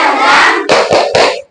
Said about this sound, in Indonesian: Sebelum itu mari berdiri semua, kita tepuk semangat